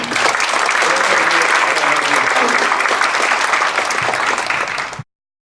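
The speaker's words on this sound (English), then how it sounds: "Please have a big clap for Ha Bui." An audience applauds a speaker being welcomed onto a stage, giving a loud, sustained round of clapping that holds steady for about five seconds, then cuts off abruptly.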